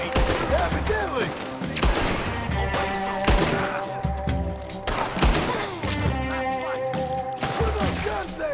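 Gunfire in a Red Dead Redemption 2 street-fight scene, with repeated shots and bursts over a busy game soundtrack, fairly loud and mixed with other effects.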